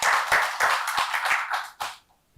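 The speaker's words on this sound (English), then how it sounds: "Was that hand clap enough?" Close applause from an audience at a youth policy conference, a burst of hand clapping that lasts about two seconds and then quickly dies away.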